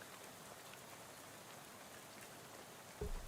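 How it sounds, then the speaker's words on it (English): Rain spatters steadily on a bus window in the video game Shadows Over Loathing, a soft, even hiss with faint patter throughout, followed by a brief low thump near the end. "you're dozing off to the sound of rain and spattering on the window beside you"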